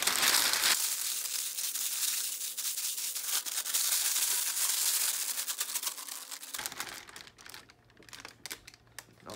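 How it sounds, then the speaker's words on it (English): A sheet of mylar is crumpled by hand, giving a dense, crackly crinkling that runs for several seconds, then tapers into scattered softer rustles. "The first thing you want to do with your mylar is to crumple it up so it refracts light better inside the bucket."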